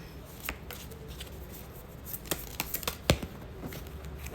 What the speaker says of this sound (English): I'm just getting one more card.